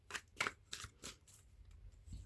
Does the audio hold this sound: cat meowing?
no